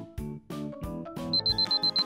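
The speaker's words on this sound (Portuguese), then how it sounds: "Odeio esse despertador chato" An alarm clock rings with a series of rapid, piercing high beeps in a regular pulsing rhythm, layered over a bouncy musical background, loud and close.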